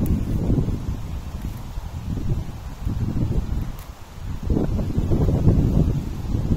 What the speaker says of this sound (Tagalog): kita nyo, sobrang lakas ang hangin